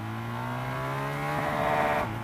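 Engine of a 2019 BMW R 1250 GS motorcycle revving while ridden, a steady harmonic drone that rises in pitch toward the end, loud and close, with no talk over it.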